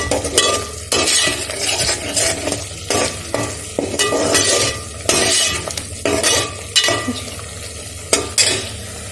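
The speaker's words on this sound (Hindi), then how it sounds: "और अब हम इसकी भुनाई करेंगे।" Ground turmeric, Kashmiri red chilli, roasted cumin, garam masala, salt and poppy seeds roast in a pan for beef kofta curry, with repeated loud scraping stirs and clinks over a sizzling background.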